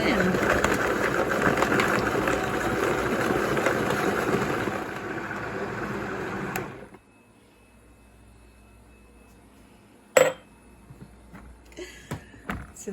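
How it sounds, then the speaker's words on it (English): A kitchen blender whirs loudly and steadily for about seven seconds while blending a thick milk smoothie, then cuts off abruptly, followed by near silence and a few clunks and knocks. "We'll just turn my blender on and"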